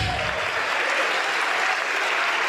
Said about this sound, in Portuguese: vamos aplaudir muito ao Senhor